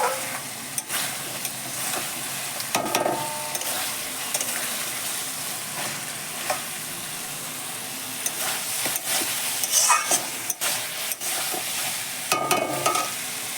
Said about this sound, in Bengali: মাছগুলো এই গ্রেভির মধ্যে দিয়ে দিলাম